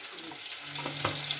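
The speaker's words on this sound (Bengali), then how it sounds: "হলুদ দিয়ে আলুটা ভাজা হচ্ছে।" Potatoes frying with turmeric in a pan while a cabbage-and-prawn dish is cooked, giving a steady low sizzle with a few soft stirring clicks, close and fairly quiet, no talking.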